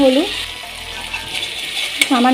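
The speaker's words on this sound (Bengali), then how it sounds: "এটা একটু নাড়াচাড়া করে নেব।" Fish roe stirred in a pan of oil over low gas, giving a steady, fairly close sizzle with faint scraping; brief harmonic voice-like tones rise at the start and end.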